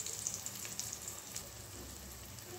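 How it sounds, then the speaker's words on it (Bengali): Teasel gourd (kakrol) slices fry in oil in a pan, giving a faint, steady high sizzle with scattered small pops over a quiet background. "কাঁকরোল ভাজা হতে কিন্তু বেশ খানিকটা টাইম লাগে।"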